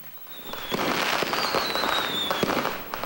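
Firecrackers bursting during New Year celebrations, a dense, continuous crackle of rapid sharp pops with a few louder bangs and a whistling rocket rising through the noise.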